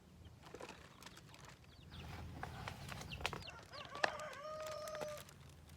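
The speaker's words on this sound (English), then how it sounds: "Did you hear my rooster?" Faint crowing comes from a rooster at a distance, a drawn-out call rising over quiet background sounds near the end.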